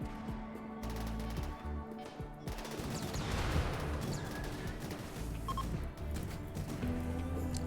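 Rapid bursts of needle gun fire in RimWorld crackle over a busy battle din, with sharp repeated shots clustered densely near the middle and other combat noise throughout.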